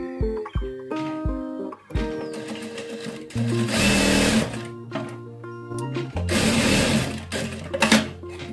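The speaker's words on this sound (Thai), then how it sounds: "พอเย็บตัวนี้เสร็จก็มาเย็บตัวชิ้นหลังเดิมค่ะ" A sewing machine stitches the back piece of a lined garment in bursts, with its motor whirring loud and close through several runs separated by short pauses and light mechanical clicks.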